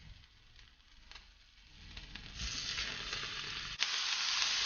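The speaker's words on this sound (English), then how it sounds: "You're going to get your pan nice and hot, dab of oil in here, start adding our meat." Marinated meat for bibimbap sizzles in a hot pan with a dab of oil, frying starting low and rising to a loud steady crackle, with a sharp clatter near the end as pieces are stirred.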